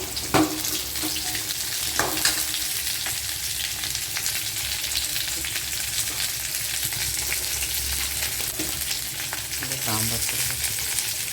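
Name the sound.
frying small onions for okra tamarind curry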